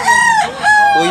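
A Claret Talisayon fighting cock from Cebu crows twice in quick succession, loud and close, each call a drawn-out, strained cry.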